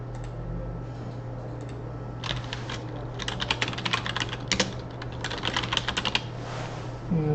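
Keys clatter on a computer keyboard in quick irregular bursts, close and clear over a steady low hum, with a few pauses between runs of typing.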